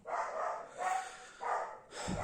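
Dog barks close by, four loud bursts spaced at even intervals with short pauses between them, with no talking over them.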